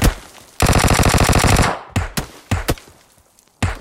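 Gunfire in PUBG Mobile: a sustained close burst of rapid automatic shots, followed by several separate single and paired shots with gaps between them, loud and sharp with no talk.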